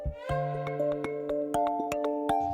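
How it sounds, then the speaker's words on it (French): Alpine dairy goats from a herd of 120 on a Loire Valley farm bleat repeatedly in overlapping, wavering calls. Small clicks and knocks sound between the voices, and nobody speaks. "Le jeune couple possède aujourd'hui un troupeau de 120 chèvres qu'ils sortent chaque jour de mars à décembre"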